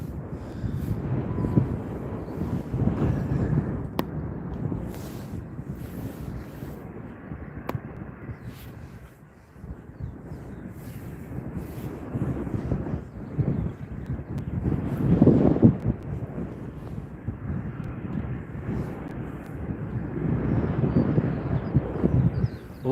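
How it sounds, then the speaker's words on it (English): An Embraer airliner taxis at Stockholm Arlanda Airport, its engines giving a steady low rumble that swells and fades over time, mixed with gusty wind noise on the microphone. "Embraer just taxiing along."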